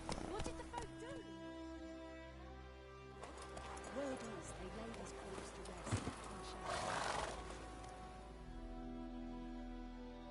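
Geralt's horse Roach in The Witcher 3 gives a whinny and breaks into a run, hooves clip-clopping in quick rhythm under game music, with speech mixed in over the gallop.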